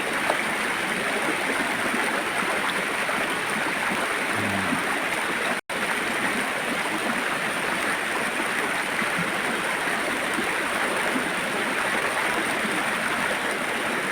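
The Riam Semaba waterfall in the forest: a steady, dense rush of falling water that fills the whole clip evenly, with one brief dropout partway through.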